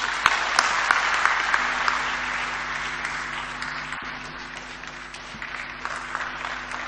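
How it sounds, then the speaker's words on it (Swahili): A large audience applauds at a business meeting with presidents Magufuli and Ramaphosa, sustained dense clapping that stays loud and steady throughout, with a faint tone humming underneath. "Naomba tupige makofi mengi, kumpongeze na kumshukuru kwa makofi mengi Mheshimiwa Cyril Ramaphosa"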